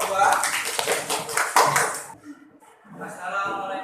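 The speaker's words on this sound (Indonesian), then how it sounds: "Kita berikan tepuk kelompok 2" Students in a classroom clap together in a short, rhythmic group cheer for a presenting group, loud and close for about two seconds, followed by brief voices.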